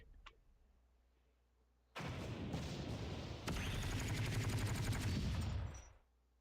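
Gunfire and explosions in the Blue Archive game start after a quiet moment, with a dense roar of blasts and rattling rapid shots that builds, holds for about four seconds, then cuts off.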